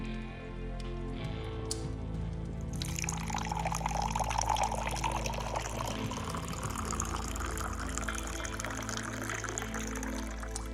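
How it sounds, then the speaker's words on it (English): A drink is poured in an indoor scene with a steady splashing and trickling stream that starts after a few seconds and runs on over a low background hum. "I'll pour myself a drink"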